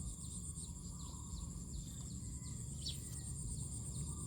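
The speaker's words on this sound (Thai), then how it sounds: "เสียงกบมันหล่อเนาะ" Frogs calling in a rice field, a steady dense chorus of chirping calls spread through the field at moderate distance, with a constant insect-like trill running beneath and no voices.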